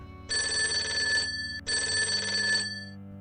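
A telephone rings twice in a steady electronic trill, each ring about a second long with a short gap between, fairly clear against a quiet background.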